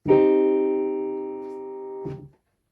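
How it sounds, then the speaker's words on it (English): A single sustained piano minor chord rings out and slowly decays for about two seconds, followed by a soft release thump as the keys lift. "Minors sound like this"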